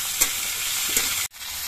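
Drumstick stalks frying in hot spices in a pan for a Bengali shukto, a steady close sizzle with a couple of stirring scrapes and a brief break near the end.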